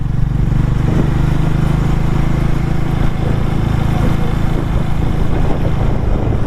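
A Harley-Davidson X440 motorcycle rides along with a steady, even engine drone at close range, loud and continuous with no voices.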